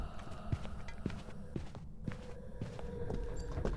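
Ghost footsteps in the Phasmophobia horror game, a series of soft, fairly regular thuds walking around a nearby room, faint and steady over a low background rumble, no talking.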